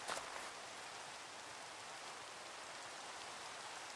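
Steady rainfall in the video game Reclamation, an even, soft hiss of drops continuing unbroken and fairly quiet throughout.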